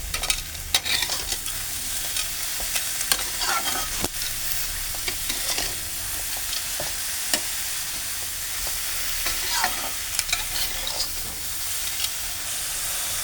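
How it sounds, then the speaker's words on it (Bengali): Eggplant pieces seasoned with salt and turmeric are stirred and fried in oil, giving a continuous hiss and sizzle with scattered scraping and clinking as the spatula moves, steady and close with no talking. "এরপরে বেগুনটাকে তেলের মধ্যে নাড়িয়ে নাড়িয়ে মানে এটা অল্প অল্প ভাজা হবে।"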